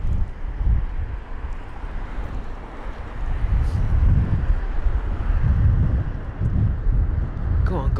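Strong gusting wind from Storm Kathleen at London Heathrow airport, a loud broadband roar buffeting the microphone in surging waves, with distant aircraft noise mixed in.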